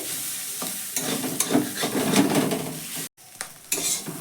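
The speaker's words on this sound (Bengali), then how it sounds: "এর সঙ্গে মিশিয়েও কিছুক্ষণ নাড়াচাড়া করে ভেজে নেব, যতক্ষণ না পর্যন্ত ডিম ভালো করে ভাজা হচ্ছে" Egg stir-fried with vegetables in a pan for a semolina breakfast dish: continuous sizzling and frying with scraping spatula strokes against the pan, close up and without talk.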